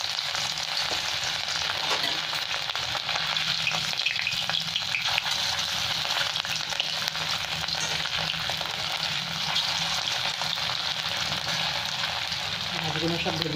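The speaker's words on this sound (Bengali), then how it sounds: "এবার আমি মাছগুলো এক এক করে ভেজে নেব।" Salt-and-turmeric-rubbed fish pieces fry in very hot oil in a kadai for doi maach, with a continuous dense crackling sizzle close up and no talk.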